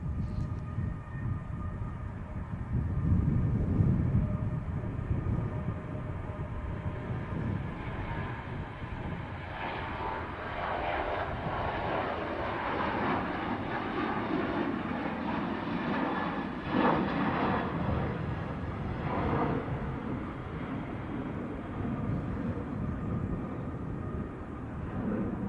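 An airliner on its departure roll at Manchester Airport makes a steady, heavy jet-engine roar that holds for the full stretch, swelling slightly partway through with no talk.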